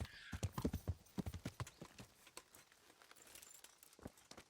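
Horse hooves clip-clop steadily on the ground in the medieval game Kingdom Come: Deliverance, a close, brisk walking rhythm that fades toward the end with a few scattered later steps.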